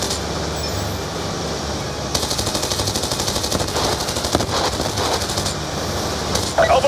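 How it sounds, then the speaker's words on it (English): Rapid machine-gun bursts crackle in a Call of Duty Black Ops II battle, sustained automatic fire rattling in repeated volleys over a constant rumble of vehicle engine and battlefield noise, with no talk. "Vehicle Alpha is receiving enemy fire."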